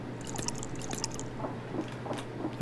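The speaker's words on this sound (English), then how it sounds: "So I'm going to put this water in here right now." Water is poured in the video game MewnBase, giving soft dripping and splashing liquid sounds, fairly faint and close, in brief uneven bursts with no talk.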